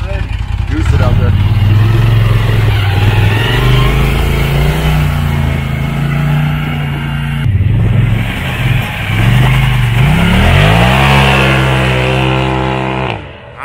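Polaris RZR Turbo with a new clutch driving hard, its engine droning and revving loud and close, pitch climbing through repeated surges and shifts, with a brief dip midway before accelerating again.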